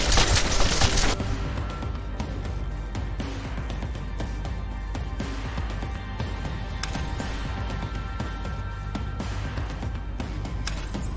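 Sustained gunfire in the video game Deus Ex: Mankind Divided, a dense rapid rattle of automatic shots running continuously at loud level after a sharper burst at the start.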